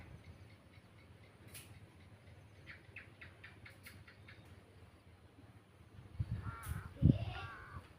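Several crows caw in the distance over a quiet outdoor background on a cold morning, flying toward their roost, with a louder burst of nearby noise toward the end.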